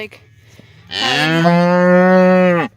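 A single long, loud cow moo close by, rising and holding steady for nearly two seconds before cutting off, with quiet background beforehand.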